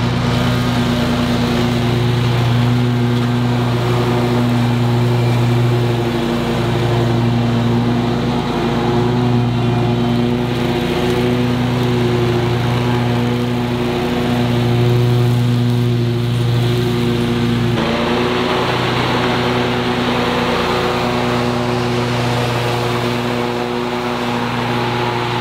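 A Scag V Ride 2 stand-on lawn mower runs steadily and close for the whole stretch, its engine droning loud and even with a constant hum and only slight shifts in pitch.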